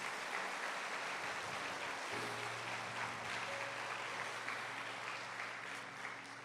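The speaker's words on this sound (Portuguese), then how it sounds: "Você pode aplaudir o Senhor por isso nessa noite?" A church congregation applauds during an evening service, a continuous wash of many hands clapping at once, steady and fairly full, with a low sustained hum beneath it.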